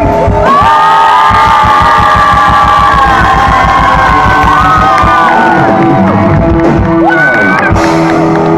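Concert crowd in a Czech town cheering, whooping and shouting loudly at the end of a set, a dense close roar with tonal voice-like swells and a steady low rumble underneath, sustained throughout.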